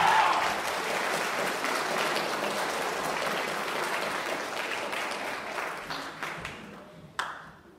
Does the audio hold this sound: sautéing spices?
no